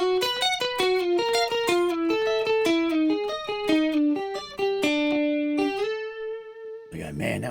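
Guitar picks out a descending arpeggio, the notes stepping down one after another in a quick, steady run, then a held note ringing out before a brief burst of noise at the end.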